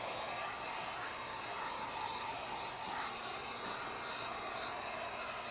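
Heat gun warming a BMW E46 3 Series car door panel, a steady close whooshing blower hiss that holds constant with no talking.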